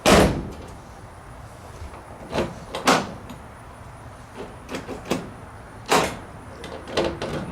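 A door on a Chevrolet C10 pickup truck being shut, with a sharp thud first and then several lighter knocks and latch clunks spread over a few seconds, close by and without speech.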